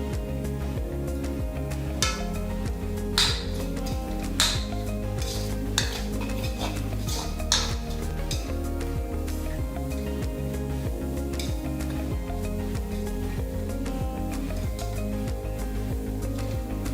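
A spatula scrapes and clatters against a pan as cheese kottu roti is stirred and mixed, Sri Lankan style, in a rapid, continuous, close metallic chopping and stirring rhythm.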